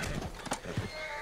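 A horse whinnying in the Red Dead Redemption 2 video game, a short agitated neigh with snorts and hoof clatter, fairly close against constant game background noise.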